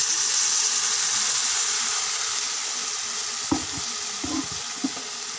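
Chepa shutki, fermented dried fish, being cooked down after a splash of water is added: a continuous hissing sizzle that slowly softens, broken near the end by a few light knocks of a spoon in the pan.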